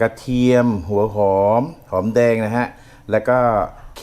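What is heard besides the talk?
No everyday noises stand out.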